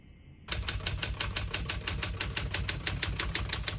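A 1968 Smith-Corona Super Sterling portable typewriter being typed on, about twenty crisp key strikes in a fast, even rhythm, close up and clear with no talking.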